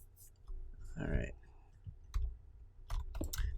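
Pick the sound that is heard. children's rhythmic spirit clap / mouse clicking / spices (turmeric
mouse clicking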